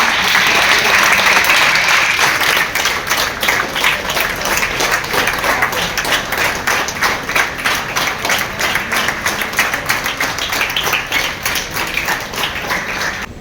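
Dense, loud audience applause fills a hall at an event honouring a Punjab National Bank general manager, steady rapid clapping that continues throughout.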